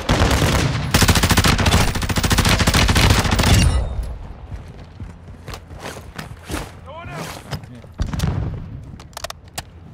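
Automated turret in Call of Duty DMZ rattles off a dense, continuous burst of rapid gunfire for several seconds, followed by scattered shorter shots and impacts, with voices in the background.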